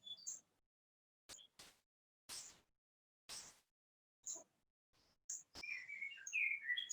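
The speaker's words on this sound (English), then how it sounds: "I can hear the birds singing." Outdoor birdsong in an evening setting: scattered bright chirps and short tweets in separate bursts, then a denser run of warbling calls near the end, fairly close and clear over otherwise quiet surroundings.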